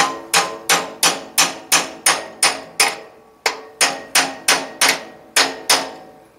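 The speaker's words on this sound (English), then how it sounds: "I like to take a hammer and a punch and just tap the rod out of the" Hammer striking a punch to drive a rod out of its mount on a Brunswick A2 bowling pinsetter turret basket, about fourteen loud, close, evenly spaced metallic taps, each ringing briefly, with one short pause midway.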